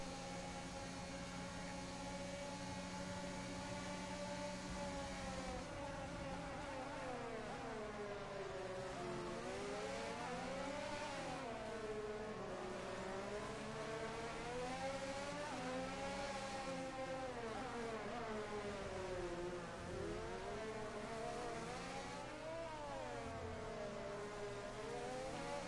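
Formula 1 cars racing in the F1 22 video game at the Miami circuit, engines droning and rising and falling in pitch as they rev through gears, steady and continuous with no voices.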